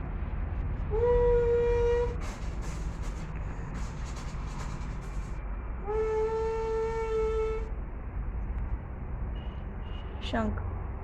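A young child of three to five imitates a train whistle with two long, steady hoots several seconds apart, then a short rising squeal. The hoots sit over background chatter from people nearby.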